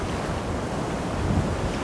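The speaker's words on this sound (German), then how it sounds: "Und hier sind Wellen, die habe ich vorher so noch nicht erlebt." Ocean surf breaks at Mirissa Beach in Sri Lanka with a loud, continuous wash and rumble, heavily buffeted by wind noise on the microphone and with no voices.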